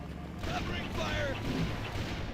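Gunfire and explosive booms in the game Halo CE, a rumbling barrage of shots with voices talking over the din.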